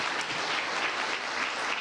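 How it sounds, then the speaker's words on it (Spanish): A church congregation claps together in a steady, dense burst of applause that fills the room throughout the short stretch, with no voices standing out. "denle un fuerte aplauso al Señor"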